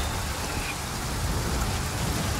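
Steady rain falls in the Total War: Pharaoh Dynasties video game, a continuous dense hiss with a low rumble underneath and no talk.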